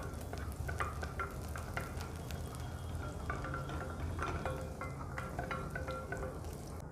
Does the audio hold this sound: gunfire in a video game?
no